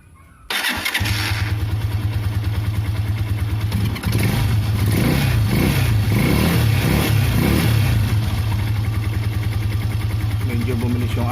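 A modified motorcycle engine is test fired, catching after a brief moment, then running loudly and steadily close by with a rough idle and some slight revving.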